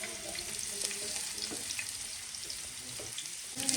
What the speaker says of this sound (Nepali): यहाँ चाहिँ भाइले कुटेको खोर्सानी टिमुर अदुवा लसुन हालिसक्नु भएको छ चलाउनुहुन्छ मेरो भाइले